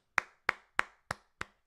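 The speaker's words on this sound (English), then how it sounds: "Round of applause for Savage." Five separate sharp hand claps at an even pace, crisp and fairly close, each one ringing out briefly before the next, offered as applause for a pitcher during an ALCS Game 6 Blue Jays vs Mariners baseball watchalong.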